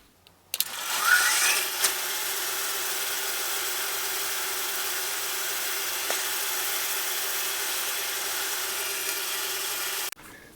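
A wooden sphere spinning on a lathe in a Vermec sphere jig is sanded up through the grits to 320, a steady whirring rasp held at an even level for several seconds before stopping abruptly.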